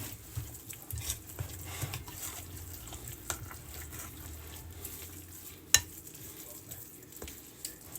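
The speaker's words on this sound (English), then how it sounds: "It's more stirring than anything, really, just to make sure you get everything all incorporated" A spoon stirs a Mexican casserole mixture in a pan with soft, continuous scraping and gentle sizzling. Occasional light taps ring out, with one sharper clink partway through and no speech.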